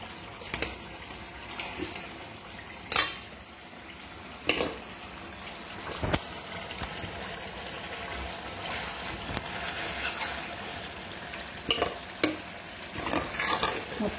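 Chicken pieces for pepper chicken fry tipped into a pan and stirred, with scattered scraping and clinking of a spoon against the metal over a soft background sizzle, no voices.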